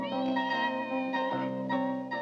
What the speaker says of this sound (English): And the cat meows.